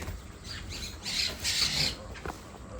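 Harsh squawks from mynas, bulbuls and koels, a few short raspy calls close by over a rough background.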